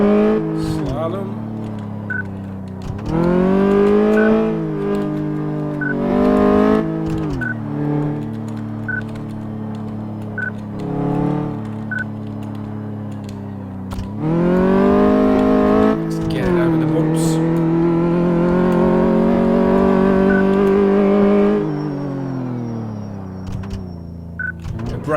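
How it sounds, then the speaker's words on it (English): A car on a test drive in Car Mechanic Simulator 2 revs its engine repeatedly. The pitch rises and falls as it accelerates and shifts, with brief quieter gaps and occasional tire squeal. "We have done our test drive."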